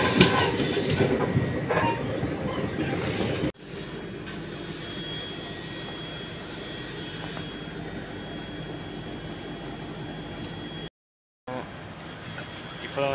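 Palakkad Super Fast Express train pulling out of a station, a steady close rumble of rolling wagons and rail noise running throughout, with a brief cut near the end and a voice briefly present.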